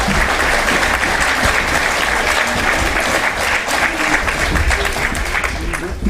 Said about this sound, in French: Evelyne et Brigitte, on les applaudit aussi.